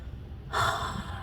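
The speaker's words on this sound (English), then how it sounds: "Let me take a breath" A single deep inhalation taken close to the microphone, a breathy rush of air lasting under a second that swells suddenly after a quiet start and then tails off, with no talking.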